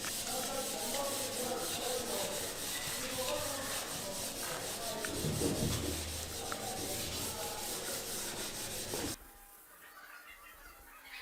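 An alloy wheel rim is hand sanded with 600 grit sandpaper, giving a continuous close scratchy rubbing that stops abruptly near the end, leaving quiet background.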